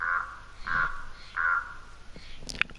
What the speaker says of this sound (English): They have all the bird sounds in them, every single one.